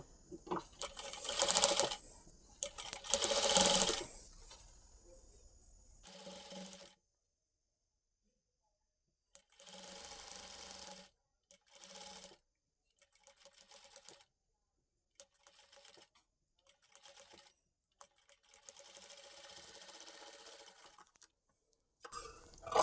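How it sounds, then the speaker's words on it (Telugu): A sewing machine runs a collar seam with white thread, loud close whirring bursts at first, then a string of shorter, softer stitching runs broken by silences. "నేను సేమ్ కలర్ కాకుండా వైట్ కలర్ థ్రెడ్తోనే స్టిచ్ చేస్తున్నానండి"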